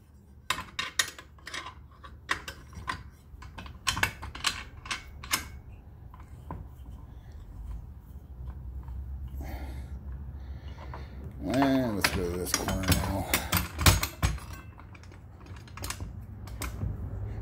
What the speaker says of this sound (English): tightening up the wing nuts, just put the box wrench underneath, tighten down